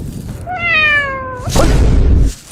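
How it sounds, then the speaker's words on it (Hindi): A cat meow, played as a sound effect, rings out as one clear, rising-and-falling call, loud and close. A muffled thump and brief rumbling noise follow. "अरे साला बिल्ली का क्यों बजा रहा है?"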